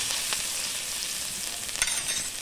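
Garlic hitting hot oil in a wok, a steady bright sizzle with brief stirring scrapes, close and continuous with no talking.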